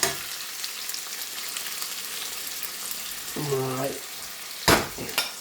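Chilies, grated onions and garlic frying in oil in a pan while cooking rupchanda bhuna: a continuous close sizzle with a brief word spoken and a couple of sharp utensil clatters near the end.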